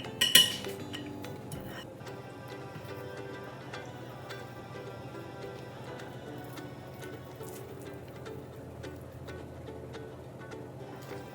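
Metal cake pan clinks and clatters sharply at first, then softer scattered taps continue as the pan is readied for a vegan almond cream cake, close and fairly quiet with no talking.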